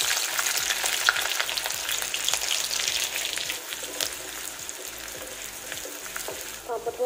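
Oil frying with ground cumin in a kadai, a steady close sizzle and crackle with faint stirring, while background music plays softly underneath.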